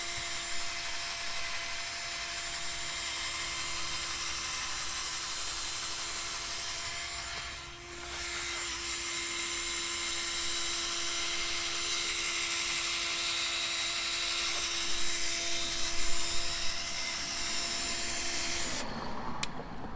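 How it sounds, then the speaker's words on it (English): An electric drill on a slow setting polishes a car headlight, a steady whirring hum that dips briefly partway through, then stops abruptly near the end. "Now we're going to want to turn the drill down to the slow setting, spread it around, and then just nice and easy."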